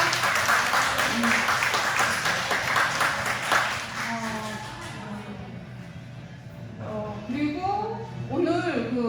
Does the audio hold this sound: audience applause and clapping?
yes